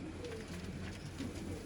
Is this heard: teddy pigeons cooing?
yes